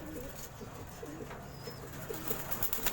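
Tippler pigeons at feeding time in Calamba, Laguna, giving soft low cooing notes amid a busy ambient backdrop, with faint scattered chirps and light rustling; no clear voices.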